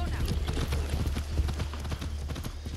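Horse hooves clip-clop in the video game Far Cry 6, a steady rhythmic trot heard close over a low background rumble, with a brief whinny and someone talking over it.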